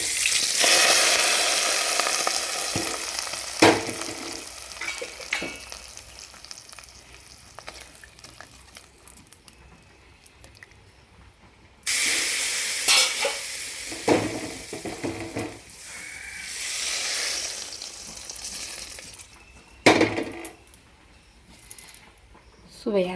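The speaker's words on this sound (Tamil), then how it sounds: "கொஞ்சம் வதங்கட்டால் சாம்பாரில் தாளித்ததை சேர்த்துக்குவோம்." Hot tempering is stirred into agathi keerai sambar in a pan, with loud frying and sizzling bursts, stirring and pot clatter while a person talks over it.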